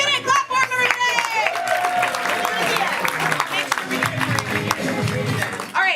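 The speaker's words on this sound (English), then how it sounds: "He did it! Clap for him" Audience clapping and cheering break out after an announcement at a live event, with a host's voice over the applause, which stays dense and continuous for several seconds.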